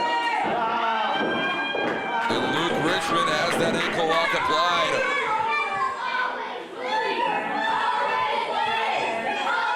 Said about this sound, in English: This crowd is alive here tonight, trying to will Brandon Groom to get another victory